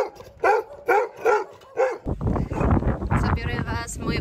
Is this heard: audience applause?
no